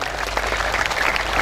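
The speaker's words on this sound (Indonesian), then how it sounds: "tepuk tangan untuk beliau" A crowd at a Maulid Nabi gathering in Banten claps for Gus Muhaimin Iskandar, a short, loud, dense burst of applause.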